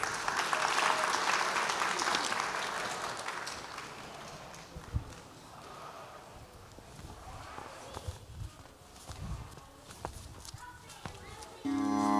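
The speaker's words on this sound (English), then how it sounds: "let's give them a big round of applause" An audience applauds a student group at an annual community program, the clapping strongest at first and fading into scattered claps and murmuring voices.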